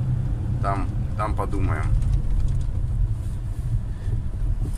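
Steady low engine drone and road rumble fill the cabin of a moving car heading to a parking spot on a windy day, continuous and close, with someone briefly speaking over it.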